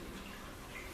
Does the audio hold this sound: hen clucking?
no